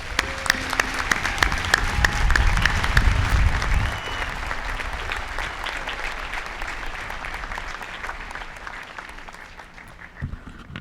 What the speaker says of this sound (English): Let's give all these doctoral candidates a round of applause.